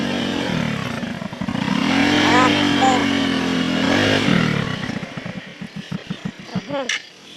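A motorcycle engine revs and rumbles nearby, a sustained tonal drone that rises and falls, then drops to sputtering pulses before cutting off, with people talking over it.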